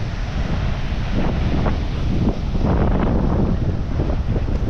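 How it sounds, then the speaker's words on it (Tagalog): Strong ocean waves at the Burias Island shore, with a continuous roar of surf and heavy wind buffeting the microphone, and recurring wave crashes swelling through the rumble. "grabe lakas ng alon ngayon guys."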